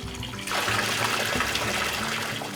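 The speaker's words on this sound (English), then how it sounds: "Wood flumes deliver 130-plus degree mineral water into a mix of primitive and modern plumbing that fills a series of barrel-shaped soaking tubs." Hot mineral water, 130-plus degrees, pours steadily from wooden flumes and plumbing into barrel-shaped soaking tubs at a rustic forest hot spring, a continuous rushing splash that swells in after a brief quiet start.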